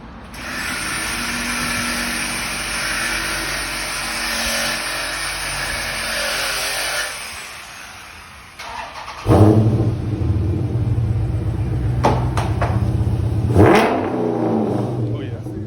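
A stock Dodge Challenger Daytona 392 with its mid muffler and resonator deleted idles with a steady rumble, then fires up and revs loudly in a couple of sharp bursts, close by, with people talking around it.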